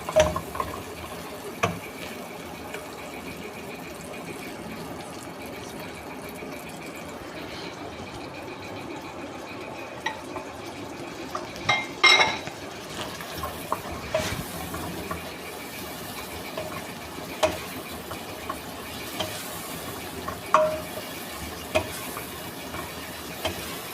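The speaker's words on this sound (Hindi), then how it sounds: "इसके साथ लहसुन अदरक का पेस्ट डाल देंगे, उसको भी साथ फ्राई करेंगे चिकन के साथ" Chicken pieces frying in a pan with garlic-ginger paste for a restaurant-style white chicken korma, giving a steady low sizzle with occasional stirring clinks and scrapes throughout.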